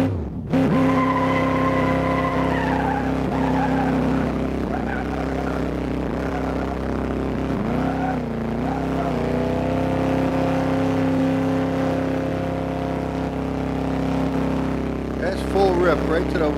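A Plymouth GTX with a 440 big-block V8 in a racing game accelerates hard and steadily, its loud engine note rising through the gear with a brief dip at a shift, and it stays forward and continuous.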